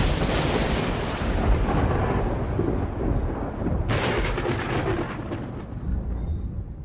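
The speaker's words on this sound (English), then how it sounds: "an electrical storm." Thunder from an electrical storm over the cliffs of Yosemite rolls on as a loud, continuous rumble, with a fresh crack of thunder breaking in about halfway through; no voices are heard.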